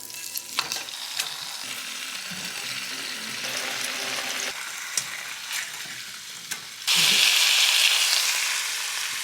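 Fish sizzling and frying steadily in a pan, a continuous crackling hiss with occasional utensil stirs, rising to a louder, brighter sizzle near the end.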